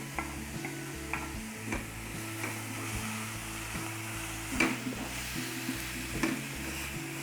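Onion filling for savory pastry sizzles in a pan, with occasional scraping stirs and knocks over a steady background hum.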